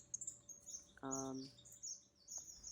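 A single short, bright strawberry finch chirp rings out clearly against a quiet background in an aviary, with faint higher twittering around it.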